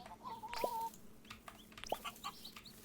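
Soft clucking from chickens in the video game Dinkum, a couple of short clucks and a drawn-out cluck over a quiet background, faint and somewhat distant.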